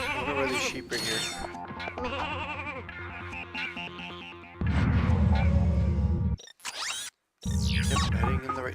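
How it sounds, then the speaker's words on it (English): Sheep bleat repeatedly in the Ratchet & Clank: Going Commando video game, several wavering cries over game music and mechanical effects, broken by a few brief gaps. "I wonder where these sheep are here."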